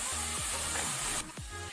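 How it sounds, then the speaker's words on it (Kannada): Onions frying in a pan over a medium flame for Channarayapatna kuska rice, a steady loud sizzling hiss that runs throughout, with a few low tonal hums and a brief shift in the frying noise near the end. "ಈಗ ಇದನ್ನು ಮೀಡಿಯಂ ಫ್ಲೇಮಲ್ಲಿ ನಾವು ಆನಿಯನ್ ಅನ್ನು ಫ್ರೈ ಮಾಡಿಕೊಳ್ಳುವ."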